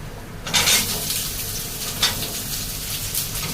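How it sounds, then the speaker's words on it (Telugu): Onions sizzling and being stirred in a pan for dhaba-style fish curry, a steady close hiss with scraping bursts of stirring, no voices. "ఉల్లిపాయలు వేసుకొని బాగా కలుపుకోవాలి"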